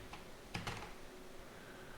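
A few quick key taps on a computer keyboard, faint and close together, then a steady low background hum with no further clicks.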